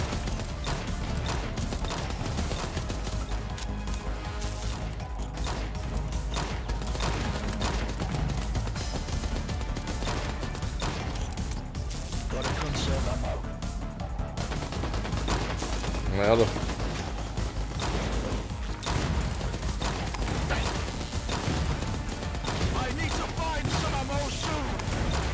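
Rapid gunfire in the space shooter video game From Space crackles continuously, with dense overlapping shots and a voice talking over the battle.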